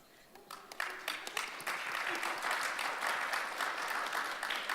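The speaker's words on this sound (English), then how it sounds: "they deserve another round of applause for them" An audience applauds two young social entrepreneurs at a Global Entrepreneurship Week keynote and talk concert, the clapping building from a few claps into sustained, dense applause from a large hall crowd.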